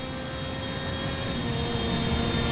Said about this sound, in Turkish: Kanka bir dakika bir uçağı takip edeyim biraz